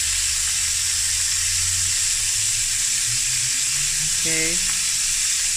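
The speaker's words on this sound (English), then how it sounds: "I'm just flipping over the sausage." Sausage fries in a pan for sausage fried rice, a loud, constant sizzling hiss that runs throughout, with a short spoken word near the end.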